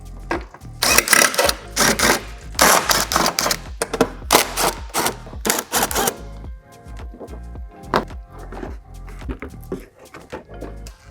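Screws being taken out of the underbody shield on a BMW chassis with the S54 engine, heard as a run of close, sharp clicking and ratcheting bursts, dense for the first six seconds and then thinning to scattered taps.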